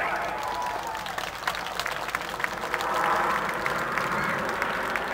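Applause from an airshow crowd at Bournemouth after a display team's vertical break, a steady, moderately distant wash of clapping that swells slightly midway and runs through the whole stretch.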